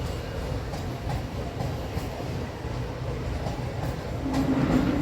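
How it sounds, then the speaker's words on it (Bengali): A train rolls past at a distance during a busy morning outside, its low steady rumble and faint rail clatter building slightly toward the end, with no voices. "এই দেখো ট্রেন যাচ্ছে"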